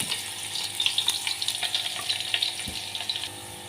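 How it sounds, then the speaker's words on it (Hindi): About two tablespoons of chopped garlic fry in oil in a pan, giving a steady, close sizzle full of quick crackling pops. The sound continues evenly from start to end with no talking over it. "तकरीबन 2 टेबलस्पून चॉप किया हुआ लहसुन ऐड करेंगे और इसको इतना फ्राई करेंगे कि इसका कच्चापन दूर हो जाए"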